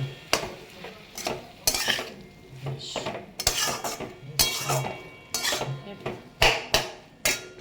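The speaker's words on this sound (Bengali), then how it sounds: "চলো দিয়ে দিলাম একটা টমেটো," Tomato sautéing in a little oil with chilli powder in a pan for a Bengali fish dish, heard as repeated loud clatters of a spoon scraping and knocking the pan with faint sizzling in between, no talk.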